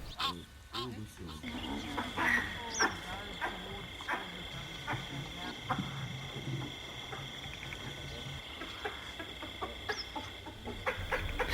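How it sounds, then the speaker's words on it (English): Honking, cackling calls from Egyptian geese and other fowl ring out repeatedly over a busy outdoor background, with voices and other birds mixed in. "Of course, the Egyptian geese also had to give their 2 cents worth."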